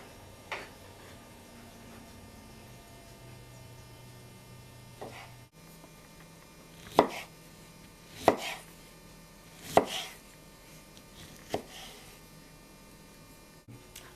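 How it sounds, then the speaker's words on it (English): Knife cutting red cabbage or sundried tomatoes into bite-size pieces on a board for a salad, a handful of separate sharp chops spaced about a second apart over a low steady hum. "And then cut them round into pieces, about 1 centimetre apart, bite size,"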